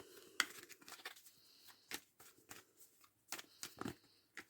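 Oracle cards being shuffled and cut by hand give soft, close, crisp flicks and taps in an uneven, quiet run, with scattered clicks and no steady rhythm.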